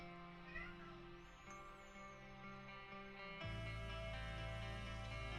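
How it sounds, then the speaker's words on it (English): A cat meows a few times, close and fairly clear, over a steady tonal background hum that swells louder partway through. "I got a cat. He's been a bit mischievous."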